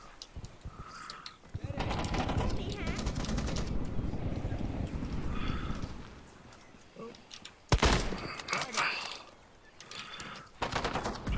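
Rapid automatic gunfire from the Vietnam-era shooter game Military Conflict: Vietnam, with sustained bursts through the middle and sharp, louder bursts near the end.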